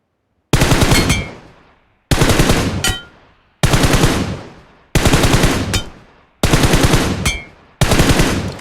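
Six loud, close bursts of M4 rifle fire in PUBG Mobile, each a short rapid volley of a few shots, separated by brief silences.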